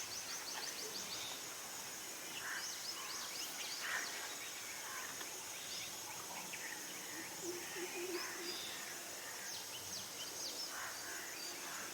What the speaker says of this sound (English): look at the cacophony of all the birds around